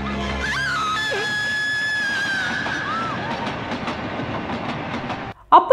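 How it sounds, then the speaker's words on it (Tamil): A train rolls along railway tracks with a steady loud rumble and clickety-clack, with a sustained horn-like tone and squeals, before a sudden break and a brief burst of noise at the end. "ட்ரெயினும் வருது."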